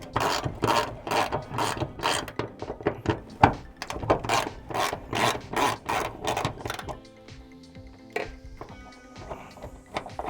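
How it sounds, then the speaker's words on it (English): Rapid clicking of a hand ratchet in repeated bursts as a Lexus IS300 hood strut bolt is loosened, close up, followed by quieter metallic scraping and clinks. "I got a hand ratchet, and we'll just go ahead and take it off by hand"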